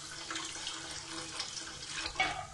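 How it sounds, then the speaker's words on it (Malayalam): Rice-soaking water, about 1.25 cups, poured into a beef biryani pot, giving a steady close splashing trickle with a brief louder splash near the end. "ഈ വെള്ളം കൂടെ നമുക്ക് ഇതിലേക്ക് ഒഴിച്ചു കൊടുക്കാം."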